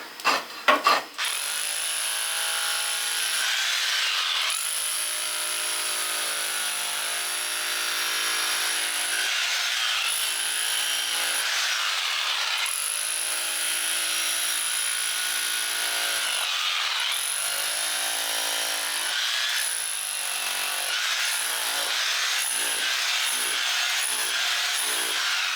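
Hand tools chip and scrape at an old consolidated floor during damp-proofing work, a continuous gritty rubbing and rasping with intermittent knocks, close and steady throughout with no talk.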